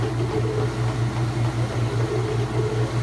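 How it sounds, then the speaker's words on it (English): A washing machine spins at speed, making a steady pulsing hum with an even, rapid throb and a constant whooshing drone, close by with no talking. "This is almost as fast as Alex's washer spins."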